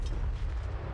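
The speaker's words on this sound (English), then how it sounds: "The great cannons are actually shooting at our troops now." Great cannons fire in the strategy game Realms of Chaos, giving a low, rumbling barrage of distant booms that rolls continuously under the battle without a clear break.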